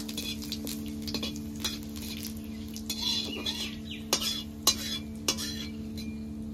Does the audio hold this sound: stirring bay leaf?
yes